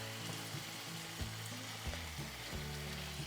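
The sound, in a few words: tomato sauce cooking down with chicken in a pan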